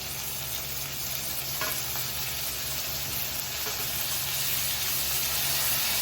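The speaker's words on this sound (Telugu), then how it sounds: "ఇప్పుడైతే టమాటా వేసేసుకుందాము." Chopped tomatoes frying in a pan for a dried vanjaram fish and egg tomato curry, with a steady loud sizzle and hiss and faint scraping as the mixture is stirred.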